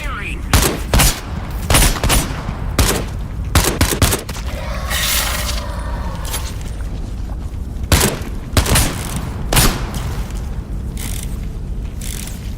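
Bursts of gunfire in the VR video game Into the Radius 2, sharp shots in quick clusters with mechanical clicks and a stretch of rustling handling noise, loud and close, with someone speaking briefly between shots.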